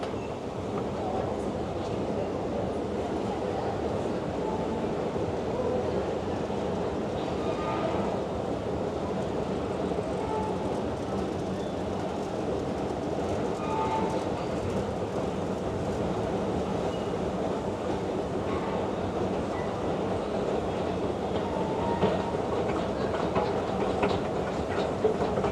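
Inside a New York City subway station, a train passes with a steady rumble and clattering rail noise that fills the whole stretch at close range. Faint voices are mixed in under it.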